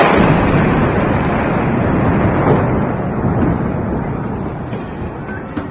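A loud, rumbling roar like a big blast echoing through a large open space outside a football stadium, slowly fading, with no distinct separate bangs.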